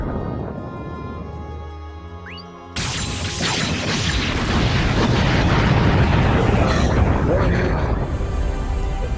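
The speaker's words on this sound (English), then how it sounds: "I couldn't quite hear you over all the explosions" Dense, continuous rumbling explosions and bursts from the video game Ar Tonelico 2 erupt after a quieter musical stretch, filling the scene loudly with booms over game music, with speech mixed in.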